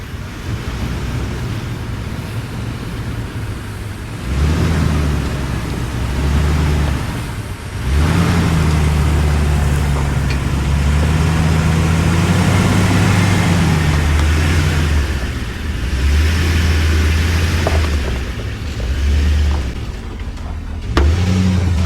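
A Toyota Tundra truck in two-wheel drive, fitted with traction boards on an off-road trail, revs its engine in long, loud, surging pulls that rise and fall over about twenty seconds, with no talking.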